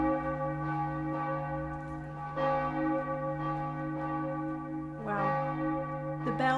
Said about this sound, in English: The bells actually waited for us to come out again, to continue ringing.